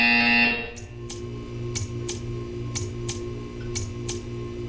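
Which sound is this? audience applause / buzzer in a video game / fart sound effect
buzzer in a video game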